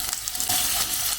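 Food frying in a pan at the start of home cooking gives a steady, close sizzle with faint stirring clicks for about a second, and no one speaks.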